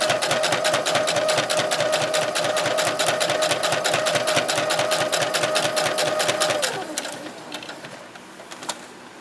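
A sewing machine stitches fabric close by in a fast, regular rhythm, slowing and stopping near the end, followed by a few light clicks.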